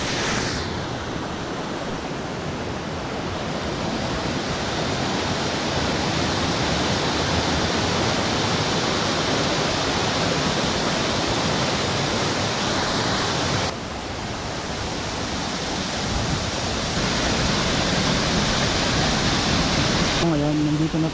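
Small waterfall in a forest setting, a steady broadband rush of falling water that stays loud and constant throughout, with a short dip partway and brief low handling sounds near the end.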